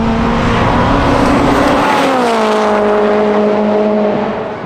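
Time attack race car competing in Tuner class, the engine holding a loud sustained drone, then shifting pitch slightly and fading as it moves away on track.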